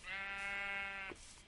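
A single sustained sheep bleat from a video game, one clear wavering call about a second long, close and alone.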